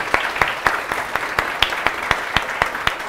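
A crowd claps steadily, with sharp individual claps standing out at a regular pace over a continuous patter of applause.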